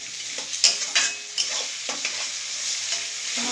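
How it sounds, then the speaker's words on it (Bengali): Vegetables and egg for chowmein fry in a pan with onion and salt while being stirred, giving a steady sizzle broken by several sharp scraping stir strokes, close and with no voices. "দিয়ে এখানে আমি একটু নাড়িয়ে চাড়িয়ে নেব।"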